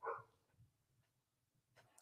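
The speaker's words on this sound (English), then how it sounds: "my dogs are barking a storm now outside" A few dogs bark outdoors at a distance, one loud yap followed by fainter scattered barks and a whine, with quiet gaps between them.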